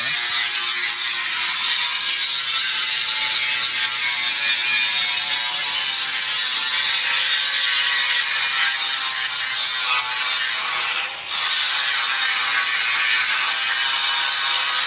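A grinder working on a building, a steady harsh high whine that runs continuously and loudly, with one brief dip near the end.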